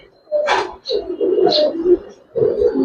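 A Kaldum pigeon coos close by: two or three low, rolling coos in a row with short pauses, plus a faint higher call.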